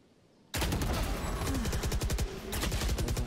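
Gunfire in Valorant, a Phantom rifle among the weapons, bursts in suddenly after a quiet moment: loud, rapid automatic shots in a dense rattling stream with a brief dip midway, and no talking.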